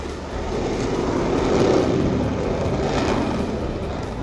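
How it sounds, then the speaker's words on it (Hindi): A British fighter jet accelerating down a runway for takeoff, a loud sustained engine roar that swells slightly midway and holds steady, with no talk. "ब्रिटिश जेट ने उड़ान के लिए रफ्तार पकड़ी और कुछ ही वक्त में विमान ने आसमान की ऊंचाइयों को छू लिया।"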